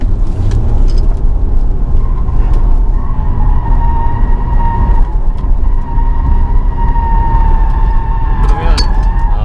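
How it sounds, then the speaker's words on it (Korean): A Volvo XC90 T6 Inscription cruising at about 80 km/h gives a steady, loud roar of tire noise inside the cabin, continuous from start to end with a faint tonal whine above it. "제가 지금 80 정도로 달려도 이 타이어 구르는 소리가 좀 이렇게 많이 좀 들리는 편이에요"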